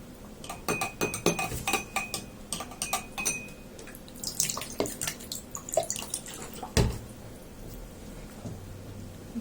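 Water splashing and dripping while a pH meter electrode is rinsed during calibration, with irregular close clinks and trickles that rise and fall throughout, plus a sharper knock near the end.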